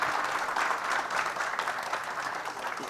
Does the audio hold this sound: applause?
yes